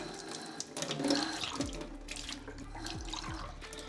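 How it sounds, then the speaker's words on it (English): Water poured from a kitchen tap into homemade hummus, a splashing trickling flow with a few gurgling drops, close and fairly quiet with no talking. "I think we'll add a little bit of water."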